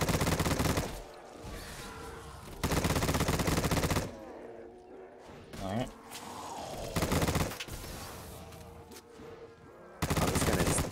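Automatic gunfire fills a Black Ops 3 Custom Zombies match on the Viking Tower map, with loud bursts of rapid shots broken by quieter stretches of game sounds and voices in between.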